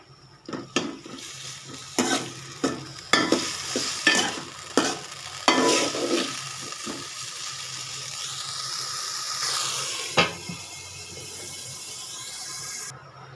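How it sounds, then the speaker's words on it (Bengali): Chopped tomatoes with salt are stirred and fried in a pan, with a spoon scraping and clattering in uneven strokes over a steady sizzle that grows louder toward the end. The sound is close, with no talking. "এখন টমেটো কুচি দিয়ে দিলাম, একটু লবণ দিয়ে দিলাম, নেড়ে চেড়ে দিয়ে"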